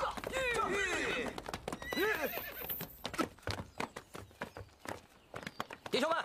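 Horses in a Chinese wartime drama neigh loudly twice, with rising and falling whinnies, then hooves clip-clop in an uneven rhythm nearby as the horses settle.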